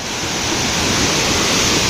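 The Kothapalli waterfall rushes in a loud, continuous roar of falling water, steady and close throughout with no voices.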